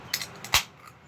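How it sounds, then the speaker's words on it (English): A can of Mountain Dew Baja Blast Energy cracks open with a small click, then a sharp pop and a brief hiss, close and quiet. "So let's crack it open."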